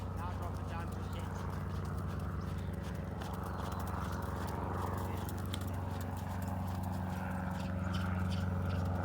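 Horse hooves clip-clop steadily on the surface of a riding arena during a lesson, a continuous rhythmic footfall heard over a constant low background hum.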